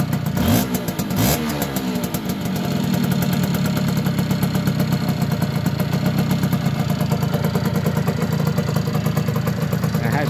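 A Yamaha FS1E moped engine idles close by in a steady, fast two-stroke putter after a brief burst of noise at the start, continuing evenly to the end.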